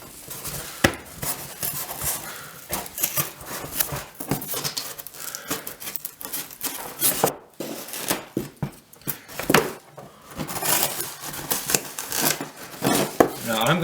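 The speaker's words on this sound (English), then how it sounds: "it'll come up pretty quick using a putty knife or some sort of flat surface to just slide it in between there" A putty knife pries and scrapes cork roadbed up from a model railroad layout in a long run of close, uneven scraping, cracking and tapping, with brief talk mixed in.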